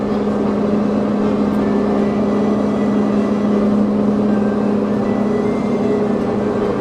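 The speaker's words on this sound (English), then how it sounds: "This is our little car, the gray Insight" A small gray Honda Insight rolls slowly onto a ferry crossing in the northern Netherlands, its steady low engine hum mixed with a constant mechanical drone and no voices.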